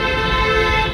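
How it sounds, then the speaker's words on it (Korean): Car horns honking continuously from wedding guests' vehicles celebrating in a French town street, a steady loud blare with layered tones over traffic rumble. "하객들과 빵빵대면서 축하하는 거였습니다"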